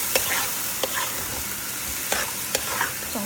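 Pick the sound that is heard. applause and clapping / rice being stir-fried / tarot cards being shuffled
rice being stir-fried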